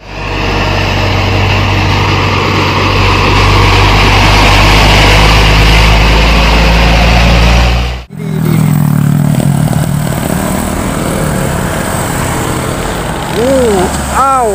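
A Hino truck loaded with cable runs with a loud, close engine rumble for about eight seconds, then the sound cuts off abruptly to quieter background noise.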